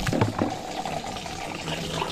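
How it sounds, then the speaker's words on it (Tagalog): Water runs steadily into a container, a continuous close splashing wash with a slightly rising fill tone. "Lalagyan muna natin to ng tubig."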